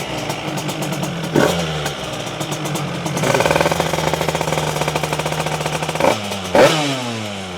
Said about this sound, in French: la moto a été démarrée